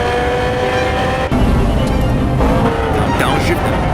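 A BMW M3 track car's engine drops a gear and surges under hard acceleration on a racetrack, a loud, sustained roar with a brief dip near the start before building again, while someone talks over it.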